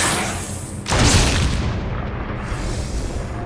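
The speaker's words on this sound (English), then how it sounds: "let's start off these festivities with the self-defense gun" A self-defense gun fires once in the Resident Evil 2002 remake, a loud booming blast with a long, dense rumbling tail that fills the rest of the moment.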